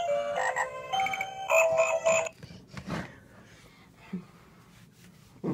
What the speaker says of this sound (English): It's the frog.